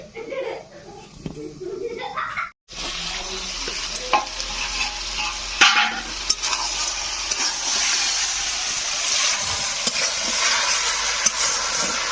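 Kadaknath chicken pieces sizzle in a pan and are stirred and turned while cooking village style. Steady frying hiss with scraping stirs runs throughout, and children's voices sound faintly in the background.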